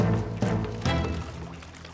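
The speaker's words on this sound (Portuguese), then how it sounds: "Elvis, pega no balde e começa a deitar a água fora!" Cartoon water being bailed out of a boat with a bucket, a few sloshing pours in quick succession that fade off, close and fairly loud.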